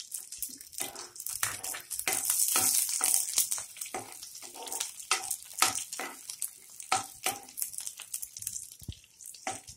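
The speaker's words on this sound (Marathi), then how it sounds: "आपण यात तेल गरम होता होता मिरची आणि कढीपत्ता घालून घेणार आहोत।" Green chillies and curry leaves fry in hot oil for a pumpkin bhaji, giving bursts of close, crackling sizzle that swell and ease unevenly throughout.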